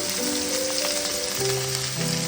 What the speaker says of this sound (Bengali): ডাঁটাগুলো একটু হালকা করে ভেজে নিয়েছি, মোটামুটি ভালোই ভাজা হয়ে গেছে ডাঁটাগুলো